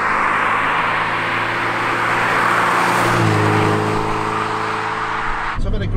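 Turbocharged Porsche 944 Turbo engine driving and accelerating, a steady loud drone that climbs in pitch midway, then drops off sharply near the end as the throttle lifts.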